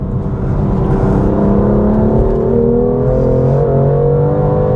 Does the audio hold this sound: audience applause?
no